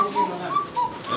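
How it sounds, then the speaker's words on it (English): A small cuckoo clock's tiny bellows sound a high, light two-note cuckoo call, repeated about three times in quick succession, close and fairly clear over faint room noise. "if you have a small cuckoo clock, you have tiny bellows"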